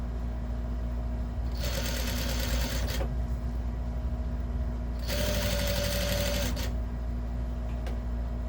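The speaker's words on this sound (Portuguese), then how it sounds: "Aí eu vou fazer a costura aqui com o pé de máquina." A sewing machine stitches a Kombi-shaped lunch bag in two fast, close runs of about two seconds each, with a steady hum underneath and no talking.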